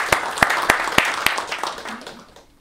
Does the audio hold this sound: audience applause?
yes